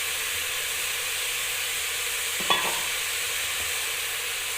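Mint leaves and tomato fry in a pan for bath rice, a steady broad sizzle running throughout with a brief clatter of stirring near the middle.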